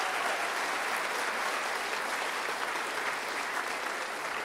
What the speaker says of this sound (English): let's give a round of applause to the tech department for taking care of us tonight